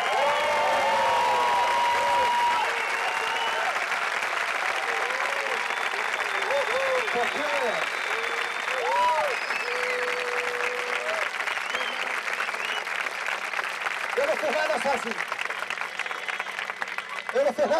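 Crowd applauding a speaker with sustained, dense clapping, cheers and whistles rising through it, loud and steady over several seconds.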